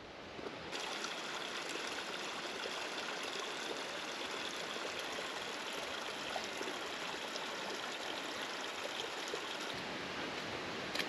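A mountain stream runs beside a hiking trail in Rocky Mountain National Park's Wild Basin, a steady, fairly faint rushing and trickling of water that continues unbroken with no voices.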